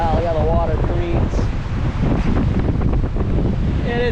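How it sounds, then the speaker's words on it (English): Gusty wind roars across a river whose choppy water is churning, loud and constant, with brief faint tonal sounds in the background. "It is so windy, it's making the water do crazy things"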